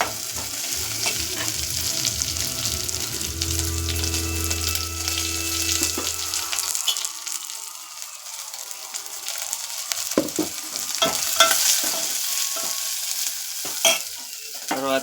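Egg curry with chillies is stirred in a frying pan, a continuous close sizzle with repeated scraping of the spoon that gets sharper and more clattery toward the end, with no talk.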